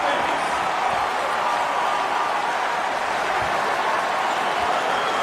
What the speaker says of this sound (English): And the crowd in Rupp is going nuts.